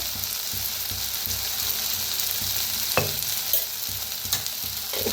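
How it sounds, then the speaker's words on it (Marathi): Onions frying with turmeric and red chili powder in a home kitchen for an onion-dal dish: a steady, dense sizzle with a spoon scraping and stirring in repeated knocks, close and loud, no talking. "आता मिक्स करून भाजूया"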